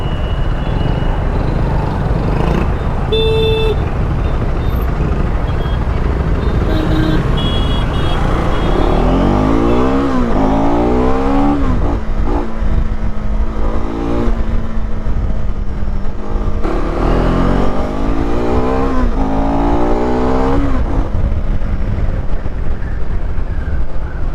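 A KTM 390 Adventure 2025 motorcycle rides along the road toward Lonavala, its engine droning loudly and rising and falling through gear changes, with heavy wind rush throughout.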